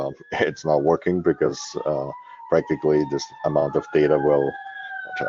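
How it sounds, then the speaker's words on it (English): A faint police siren wails steadily in the distance, its slow rising and falling tone running beneath someone speaking throughout. "I apologize if you can hear sirens in the background."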